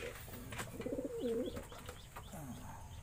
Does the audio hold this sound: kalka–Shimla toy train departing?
no